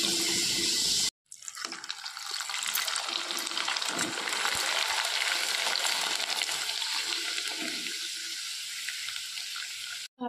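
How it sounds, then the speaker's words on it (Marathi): Homemade rice papads and kurdaya crackle and sizzle in hot oil as a loud, steady frying hiss that starts after a brief gap and holds to the end. "पहिले मी पापड्या आणि कुरडया तळून घेणार आहे"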